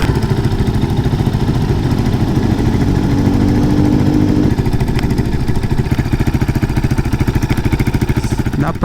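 A Rusi Classic 250cc motorcycle customized as a bobber idles steadily nearby, a dense, rapid thumping putter that holds an even level throughout with a faint mechanical clatter.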